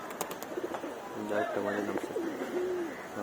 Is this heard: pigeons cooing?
yes